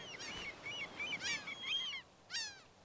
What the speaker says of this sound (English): I love the sound of the seagulls too.